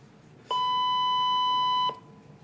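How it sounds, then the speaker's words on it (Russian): A single steady electronic beep marking the start of a 20-second countdown sounds for about a second and a half, clean and bright over faint background hiss. "Это звук начала отчета."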